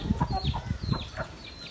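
Several Aseel hens cluck softly and intermittently nearby, short throaty calls overlapping in a quiet yard.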